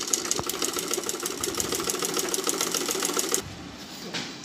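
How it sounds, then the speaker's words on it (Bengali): An electric sewing machine stitching a fabric cover for a table fan chatters in a rapid, steady rhythm close by, then stops abruptly, leaving a faint hum and one brief clack. "এইভাবে সেলাই করা হচ্ছে এইভাবে"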